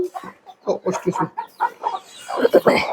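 Chickens kept on a home balcony, a hen with chicks among them, cluck in short bursts close by, mixed with people talking throughout.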